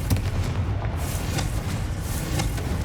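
Hogwarts Legacy's Confringo blasting spell goes off in a loud, rumbling explosion, with booming low noise sustained across the clip and a few sharper cracks poking through.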